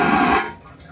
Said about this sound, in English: This might be the loudest toilet I've ever heard.